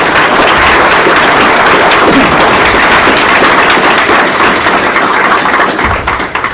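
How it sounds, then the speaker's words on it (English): An audience at a legislative candidate forum in Choteau applauds for the candidates, a dense, loud, steady wash of clapping that holds for several seconds before tapering slightly at the end. "I'd like a round of applause for them"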